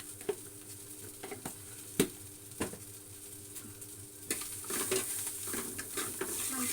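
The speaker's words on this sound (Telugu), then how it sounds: "మంచిగా ఇట్లా ఫ్రై అయిపోవాలండి." Tomato pickle fries in a pan while a spoon stirs it, giving a soft steady sizzle broken by sharp clinks and scrapes against the metal. The frying grows louder and busier after a few seconds.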